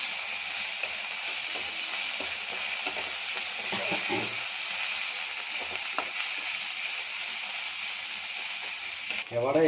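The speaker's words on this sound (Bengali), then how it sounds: "এবার আমি আদা রসুনের পেস্টটা দিয়ে দেবো।" Ginger-garlic paste hits onions already fried reddish-brown in a pan while preparing the spice mix for potato chops, giving a steady, close sizzle with a few soft stirring knocks and no voices.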